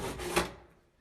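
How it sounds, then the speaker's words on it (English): A sharp stab into a wooden door: one loud impact with a brief scraping rasp of wood, followed by a fading rustle, alone and close by. "Why the fuck are you stabbing the fucking door?"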